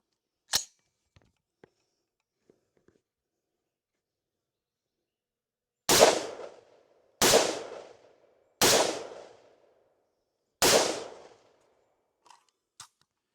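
Four loud, sharp gunshots from a rifle fitted with a duct tape optic ring out one at a time, each followed by a decaying echo, with a few faint clicks and handling noises before and after.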